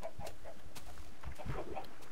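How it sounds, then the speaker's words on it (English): Several chickens in Minecraft cluck intermittently in short, soft bursts, close by and without talk. "Doesn't really help me with the jungle, but there's tons of chickens."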